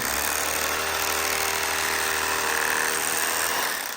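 Electric fillet knife running steadily as it slices a bass fillet away from the skin, a continuous buzzing motor whine that stays close and even for the whole stretch, trailing off at the end.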